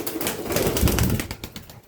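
A male pigeon coos and flaps its wings close by, a brief burst of wingbeats and low throaty cooing that swells in the middle and fades out.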